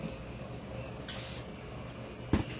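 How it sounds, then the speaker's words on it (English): Short hissing spray from a can aimed at a DIY patriotic sign, one brief burst partway through over a steady low background hum, followed by a quick knock. "So I'm going to spray this a little bit"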